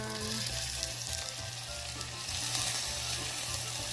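Onion and garlic fry in a hot pan for a chickpea picadillo, giving a close, steady crackling sizzle with faint stirring scrapes and no voices over it.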